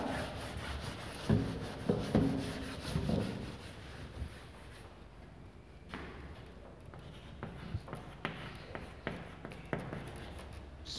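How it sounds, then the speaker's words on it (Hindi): Rubbing strokes of an eraser wiping a drawn electrical symbol off a board during a class, a series of short scrubbing bursts with small taps, fairly close and with no talk. "देखो इसको तो मैं मिटा रहा हूँ।"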